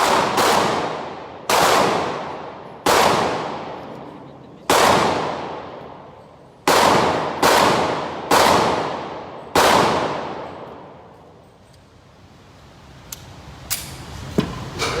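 Gunshots ring out at an outdoor shooting range, seven loud sharp reports in an irregular series with ringing decays, followed by a quieter stretch with a few faint clicks and small knocks.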